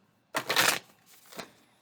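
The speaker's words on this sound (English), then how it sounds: "do one more shuffle" Tarot cards are shuffled in a quick riffle, a loud burst of papery flutter followed by softer rustling and a brief second flick, close by and with no talk.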